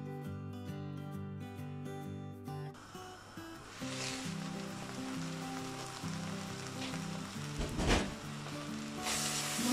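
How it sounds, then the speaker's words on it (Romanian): Steady sizzling from sour cabbage braising with pork in a pot, a broad crackling hiss that continues throughout with background music playing underneath. "varza începe să se călească"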